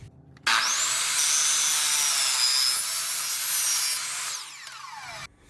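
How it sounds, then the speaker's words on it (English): Ryobi 10-inch saw with a 40-tooth DeWalt blade slicing through aluminum sheet for a jon boat floor: a sudden loud, bright screeching whine held for about four seconds, then dropping off as the blade spins down, close and without talk. "it is time to cut the aluminum. I'm using the Ryobi with the DeWalt blade."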